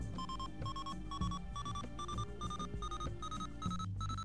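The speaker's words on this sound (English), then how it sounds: "Why is an alarm going off?" In the space-survival game Ostranauts, an alarm beeps repeatedly in a steady, evenly spaced pattern of bright electronic tones over a low droning background hum.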